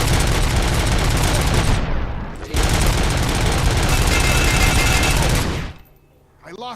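Sustained automatic gunfire in the Robocop Rogue City video game roars in a dense, loud burst, breaks briefly, then resumes before stopping, leaving a short tail of quieter game sound.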